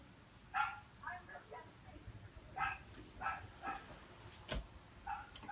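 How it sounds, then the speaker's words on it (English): A dog barks in short, faint bursts from somewhere away from the microphone, several barks spread over a few seconds against low background hiss. "Sorry if you can hear my dog barking."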